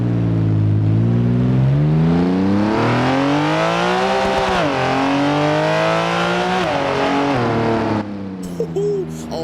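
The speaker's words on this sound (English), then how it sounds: "Let's hear the engine real quick." A race-homologated Porsche GT3 RS on race slicks revs its engine loudly and up close, the pitch climbing and falling in several sweeps before cutting off abruptly near the end.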